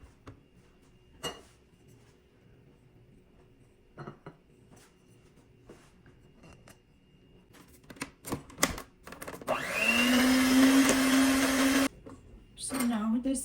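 An electric mixer works semi-shortcrust pastry dough of flour, butter and egg yolks. After quiet talk and a few scattered clinks, it kicks in as a loud, steady whirring drone near the end, lasting a few seconds before cutting out.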